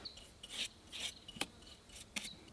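Hand sanding of a rusty, silver-glittery surface during a solo home renovation: short rasping strokes in an uneven rhythm, close and fairly quiet, with no talk.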